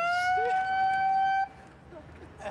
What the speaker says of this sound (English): It has a terrible siren.